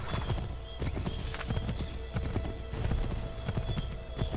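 Horse hooves clip-clopping in Assassin's Creed 3, a steady galloping rhythm of loud, close hoof strikes with a faint whinny in the mix.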